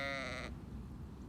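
A Katahdin sheep gives one short, close bleat, followed by quiet farm background.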